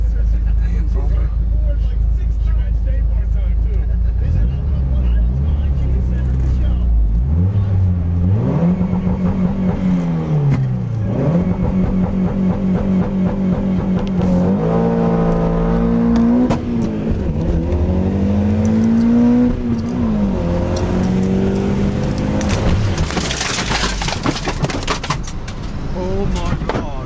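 A BMW M3 launches and races a Mitsubishi Eclipse, its engine revving and climbing through gears loudly up close, ending as the engine blows, with people talking over it.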